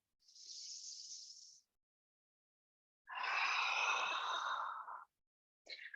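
Breath is drawn in with a soft hiss and then pushed out in a long, audible exhale during a yoga stretch, close and fairly loud, with a brief breath sound returning at the end.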